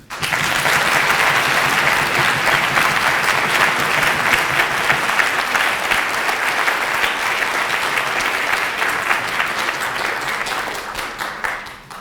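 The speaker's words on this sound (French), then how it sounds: "j'appelle donc à la barre, sous les applaudissements de l'auditoire, Monsieur le Premier ministre." Audience at the final of a French national debate championship applauding in a hall, sustained dense clapping from a large crowd at steady loudness before fading out at the end.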